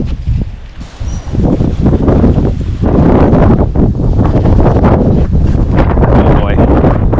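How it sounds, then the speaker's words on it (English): Strong outdoor wind roars and buffets the microphone almost continuously as stormy weather moves in, rising after a brief lull, with faint voices underneath. "Oh boy, here comes the wind."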